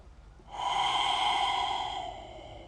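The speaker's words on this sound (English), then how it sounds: "Take a breath out." A single slow, audible exhale during a guided yoga meditation, rising softly, holding steady for over a second and fading away with no speech over it.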